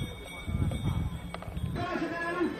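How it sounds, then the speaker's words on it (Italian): A horse runs at full gallop in a village race during the Sa Cursa de sa Pudda festival in Gergei, Sardinia, its hoof clatter close and rhythmic under a crowd's shouting and cheering. "Adesso è la volta di Muri Mattia col cavallo a luce"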